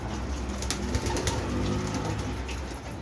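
Pigeons coo softly over a steady background hum, with a few faint flutters and taps mixed in.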